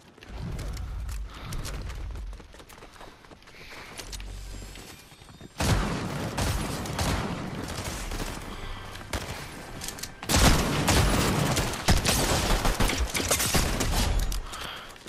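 Rapid bursts of pistol gunfire in a video game, loud and dense, with sharp shots packed together in a steady barrage that grows louder and more intense over the last few seconds.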